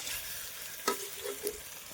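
Onions fry in a pan with a continuous close sizzle, punctuated by two or three scraping stirs of a spatula.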